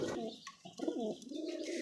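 Soft pigeon coos repeat close by in a low, rolling murmur, with a brief pause midway before the cooing resumes.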